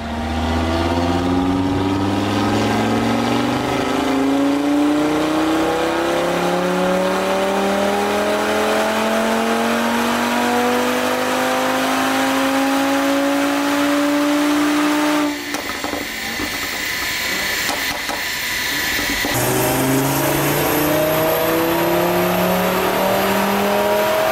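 An Audi RS3 engine on a dyno climbs steadily in pitch through a long sustained run, breaks off sharply, then resumes at a lower rising note; no talking.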